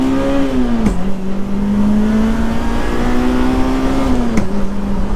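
A Toyota Celica T Sport accelerates hard from inside the cabin, its engine note climbing loud and steady with two abrupt breaks where the pitch drops at gear changes.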